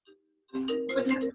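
A phone ringtone goes off during a Zoom call, heard as a faint short tone and then a louder, steady ringing melody over about a second, mixed with voices.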